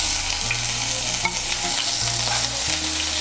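Ginger paste fries in hot oil with cumin tempering, a dense, loud sizzle continuing throughout while a spoon stirs and scrapes the pan, with no talking.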